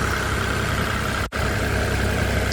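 The diesel engine of a 2019 Kubota KX040-4 excavator idles in its open engine compartment, a loud, steady, close rumble with a hum, broken only by one very brief dropout.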